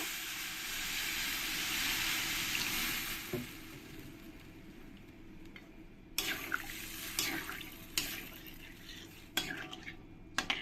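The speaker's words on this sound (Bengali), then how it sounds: "এবার আমি জল দিয়ে দেব" Water pours into a pan of taro frying with spices, a broad rushing hiss for the first few seconds, followed by sharp clinks and scrapes of a utensil against the pan.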